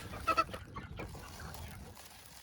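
An Australorp chicken gives two quick squawking clucks close by, followed by quieter shuffling and background noise.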